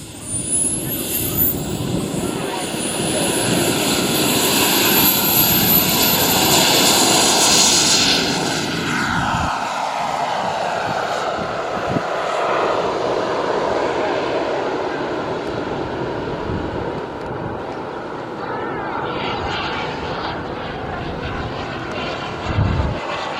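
A loud jet-like engine roar from a Carf Models Bolt model turbine jet swells and recedes as it passes at an airshow, with a long fading whine afterward.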